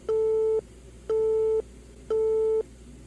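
Telephone busy tone in a horror video game after a call hangs up: three steady, evenly spaced beeps, each about half a second with equal gaps, clear and alone with no talk.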